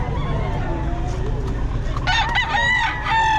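A Boston Hen rooster crows loudly and close by in the second half, with harmonic calls rising over constant low farmyard rumble and background murmur.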